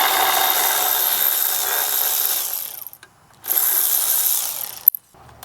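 A tool working loose a 10 millimeter bracket bolt on a 2007 Honda Accord 2.4L engine gives a close, steady rasping ratchet whir, breaking off briefly then resuming before a final click.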